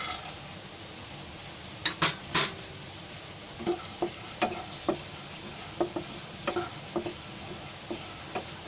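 Charoli nuts and cashews are dry-roasted in a pan for a Diwali karanji filling, with a spoon scraping and clinking against the metal at irregular intervals over a faint, steady background hiss; quiet and close, no talk.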